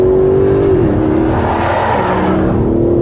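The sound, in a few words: Aston Martin DB11 loud exhaust in sport plus mode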